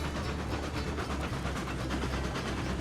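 Freight train hauling six oil tank cars in the railway game Railroads Online, a steady dense rumble with continuous wheel clatter and rolling noise throughout, close and loud, no voices.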